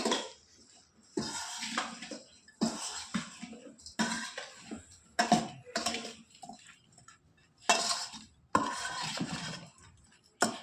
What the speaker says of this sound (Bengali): এখন মশলাটা দিয়ে একটু মিক্স করে নেবো